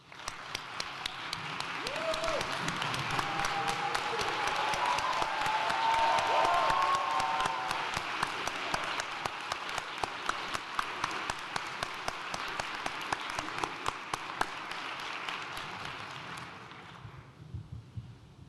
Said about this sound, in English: let's give Trustee Stryker and Mr. Johnson a standing applause